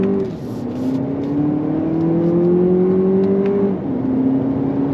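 Inside a 2025 Lexus TX 500h F Sport Performance, the engine hums and climbs steadily in pitch under acceleration, then drops briefly at a paddle-shifted upshift before rising again, a loud, continuous drone.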